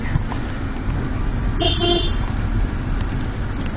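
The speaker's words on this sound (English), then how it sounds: "Honking to get in." A car horn gives a short honk at a front gate during a mission trip in Africa, sounding over a steady rumble of engine and road noise.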